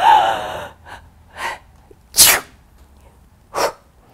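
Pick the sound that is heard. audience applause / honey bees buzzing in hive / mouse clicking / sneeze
sneeze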